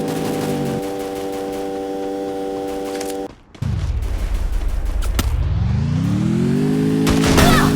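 Motorbike engine in the Free Fire battle royale game roars close and loud, its pitch sweeping up as it rams a player, after a sudden break that follows a sustained tonal hum and gunfire-like bursts.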